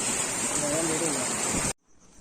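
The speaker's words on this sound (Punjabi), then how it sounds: "ਬਰਸਾਤ ਬਹੁਤ ਤੇਜ਼ ਹੋ ਗਈ ਆ ਇਸ ਵੇਲੇ" Heavy rain pours down in a dense, steady roar of hiss that stays loud and even for most of the moment, then cuts off abruptly into near silence.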